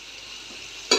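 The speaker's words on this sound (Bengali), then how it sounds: "আমি মাছের পেটি দিয়ে এই যে শাকের চচ্চড়ি করছি" Greens and lentils cook with fish belly pieces in a pan, giving a soft steady sizzle that jumps to a sudden louder crackle near the end, heard close with no talking.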